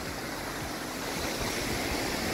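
Roaring waterfall at Cachoeira da Fábrica in Rio Rufino, Santa Catarina, dropping down a huge rock wall; a steady, dense rushing roar that fills the whole stretch without pause or voices.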